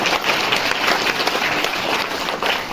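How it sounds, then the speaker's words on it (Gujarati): Loud, dense applause fills a school farewell ceremony for Class 8 students, steady and close throughout with no pauses. "જોરદાર તાળી પાડી"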